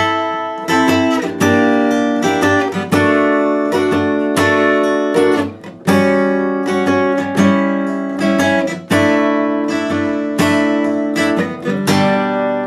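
Guitar playing the opening three bridge sections of a song at full tempo, a steady run of close, bright strummed chords with regular attacks throughout and no talking.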